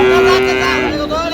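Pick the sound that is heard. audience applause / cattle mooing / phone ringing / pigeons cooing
cattle mooing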